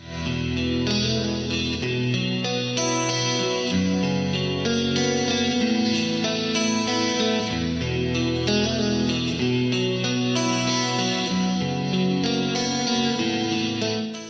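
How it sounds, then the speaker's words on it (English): Electric guitars with a shimmering chorus effect play a steady, full-bodied passage, strummed chords ringing with wide, slightly doubled tone throughout. "here's what the guitars sound like kind of more by themselves"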